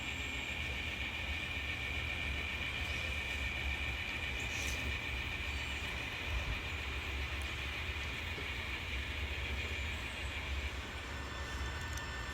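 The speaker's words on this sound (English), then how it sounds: "now we're going to see the eastbound train creeping into town." An eastbound freight train creeps into the Chillicothe yard with a faint, steady rolling rumble and a thin, high metallic whine that holds throughout.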